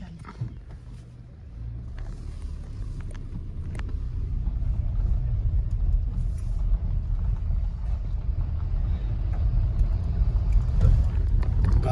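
A car moves slowly along a road on a waterfall trail in Keonjhar, a low engine rumble that builds gradually and stays close and steady.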